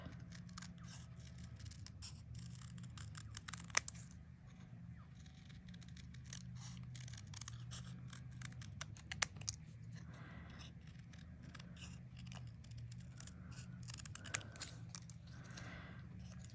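Scissors snip paper words from a sweet saying for an artist trading card, small quiet cuts scattered over a low steady background hum, with a few crisper snips standing out.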